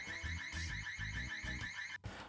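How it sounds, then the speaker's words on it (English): A Ring Stick Up Cam Wired (2018) security camera sounds its siren, a loud, continuous electronic alarm that pulses in a steady repeating pattern, close and alone with no talk, cutting off briefly near the end. "Siren is the only feature that the Ring Stick-Up Cam has that the Wyze Cam doesn't have."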